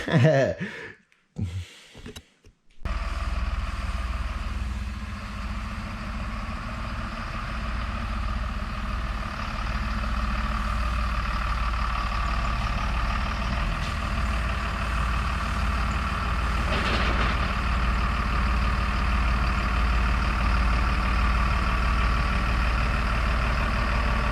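A school bus conversion idles steadily with a deep, continuous engine rumble that holds close and even for over twenty seconds, after a few brief bangs and handling noises at the start.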